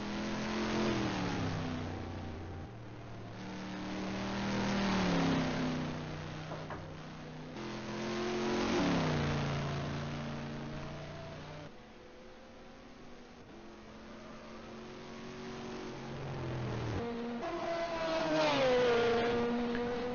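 Acura ARX-02a LMP1 prototype and other race cars lapping Road America in an endurance racing video game, engines loudly revving up and down through gear changes over several surging passes, with no talking.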